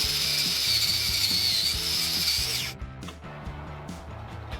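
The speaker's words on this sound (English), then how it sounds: "finish it up with a flapper disc" An angle grinder with a flap disc polishes steel welds on a railing, a loud continuous grinding hiss that cuts off abruptly partway through, leaving quieter mechanical clatter afterward.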